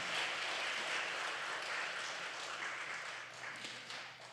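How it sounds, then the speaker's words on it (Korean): A church congregation at a Korean evangelism revival gathering gives sustained, dense applause, a broad wash of many hands clapping that holds steady and slowly fades toward the end, with no talk. "주님 앞에 우리 영광의 박수를 올리고 마치도록 하겠습니다"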